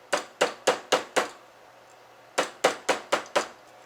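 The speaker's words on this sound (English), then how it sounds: "use a rawhide mallet and hammer it down" Two sets of five sharp, evenly spaced rawhide mallet blows flattening a metal ring, with a short pause between, each a close, ringing knock on metal.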